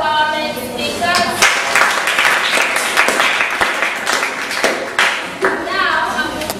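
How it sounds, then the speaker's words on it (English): Audience at a debate on whether children should be punished claps for the main speakers, a broad, steady wash of applause filling the room with some voices mixed in. "Please, can we clap for our main speakers?"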